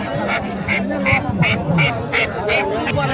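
Raja ducks at a village market in Omarpur Hat, Nandigram, Bogura, quack in a quick, repeated series of close, nasal calls while people talk nearby.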